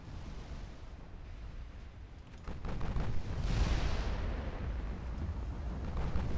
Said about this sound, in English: Oh, there's another salvo on the way